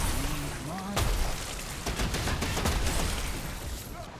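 Pistol gunfire in the video game Remnant 2, a burst pistol: loud, sharp reports crack out in quick clusters after a brief quiet start, with booming tails.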